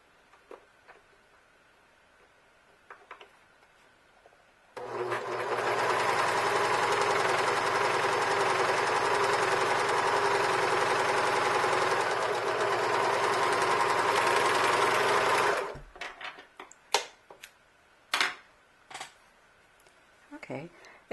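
A serger overlocking fabric edges for clothing labels runs loud and steady for about eleven seconds, a dense close mechanical whir, with quieter handling clicks and taps before and after it.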